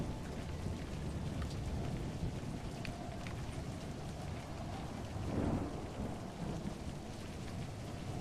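Steady rain and rolling thunder in the Scottish Highlands adventure game A Highland Song, a continuous hiss of rainfall with a low thunder rumble swelling midway.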